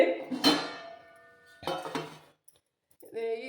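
A lid goes onto a metal container of soaked rice, with two ringing clanks of metal on metal, a short pause, then a further resonant clink.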